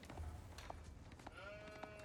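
Sheep bleat faintly in the real-time strategy game Age of Empires IV, a few short bleats over a busy bed of game ambience and soft clicks.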